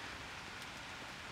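Steady rain pouring down during a thunderstorm overhead at night, a dense even hiss of drops on surfaces with no thunder or voices, close and continuous throughout.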